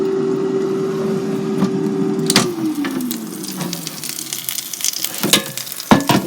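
Chicken wings, heavily seasoned and unbreaded, sizzle and crackle steadily in an air fryer at 400 degrees, with a humming fan tone that slides down partway through and scattered sharp pops and clicks toward the end.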